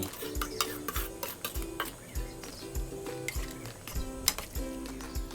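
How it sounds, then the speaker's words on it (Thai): A spoon stirs fermented bamboo shoots into a Thai chicken curry in a pot. Repeated close clacks and scrapes sound in an uneven rhythm over steady background music. "คนให้เข้ากันรอให้เดือด"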